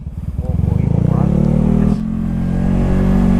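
A carbureted Honda Beat scooter bored up to 130cc with an aftermarket exhaust idles and revs loudly up close, its engine pulsing rhythmically then settling into a steady drone, with a voice talking over it.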